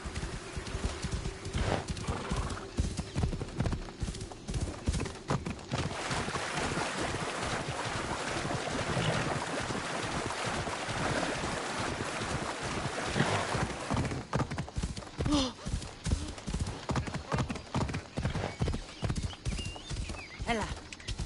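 Hooves clip-clop in a fast galloping rhythm from a horse in the video game Assassin's Creed Odyssey, with wind, water and sailing sounds around it and brief voices in the mix.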